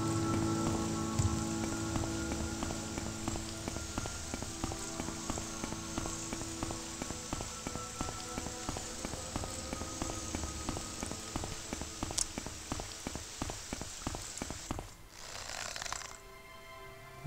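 Steady rainfall in the video game Morrowind, a continuous soft hiss with faint ticking that suddenly cuts out near the end, leaving quieter game ambience.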